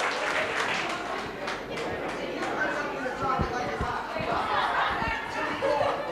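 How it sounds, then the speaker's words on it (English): A workshop audience applauds in a dense, sustained wash of clapping, mixed with crowd chatter, a few laughs and overlapping voices in a room. "Give yourselves a round of applause."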